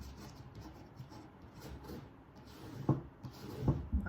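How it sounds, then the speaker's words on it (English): Folded paper for a gift card holder is scored with a tool, giving soft close scraping and rubbing strokes, with a few sharper taps and knocks toward the end. "And we're going to score that."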